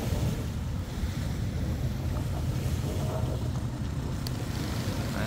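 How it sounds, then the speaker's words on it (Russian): Sea waves wash onto Central Pattaya Beach in the morning, a steady surf hiss mixed with gusty wind noise across the microphone, with no talking. "Это море."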